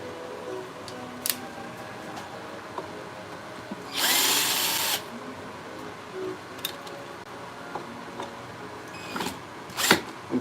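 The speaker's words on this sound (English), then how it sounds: "we're going to take the screws out of this" A power drill backs screws out of a wood-turning blank in a woodworking shop, giving one short, loud whir midway through, with scattered small clicks and knocks in an otherwise quiet room.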